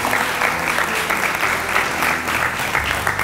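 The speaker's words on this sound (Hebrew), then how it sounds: "וזה מגיע כפיים לכל אלה שמחזיקים את זה ומזמינים." Loud, sustained applause from a large audience at a rabbi's talk, dense steady clapping filling the whole stretch without talking.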